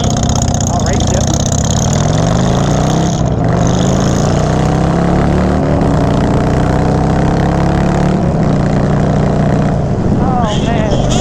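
A 2013 Harley-Davidson Sportster 48 motorcycle engine roars at speed, a loud, close, continuous rumble with rising and falling pitch under a steady rush of wind, with voices talking over it.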